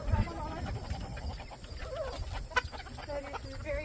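Polish chickens and other hens on a farm give soft, scattered clucks and short calls at moderate distance, with a steady low background hum and a few sharper peeps rising above it.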